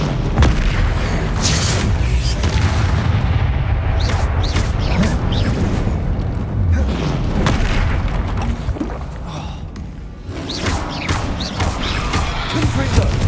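Repeated fiery spell blasts from the Confringo curse in the video game Hogwarts Legacy, loud booming bursts coming one after another over a dense, busy battle din, with a voice speaking briefly among them.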